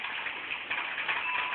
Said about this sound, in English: What you hear in the background is rain.